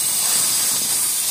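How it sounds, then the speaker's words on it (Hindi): An air gun blasts compressed air into a Honda CB Shine motorcycle engine to push out leftover oil, a loud, steady close-up hiss that fills the short moment without a break. "एयर गन की मदद से इसकी थोड़ी एयर मारनी है, क्योंकि बचा हुआ तेल इसका पूरा निकल जाता है सही से"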